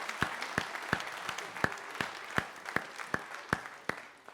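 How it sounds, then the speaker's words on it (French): Sparse applause at the official Golden Globe Race skipper presentation, honouring sailor Kirsten Neuschafer as she rejoins the other sailors: a handful of distinct, steady hand claps against a low crowd murmur. "Et applaudissements pour elle pendant qu'elle rejoint les autres marins."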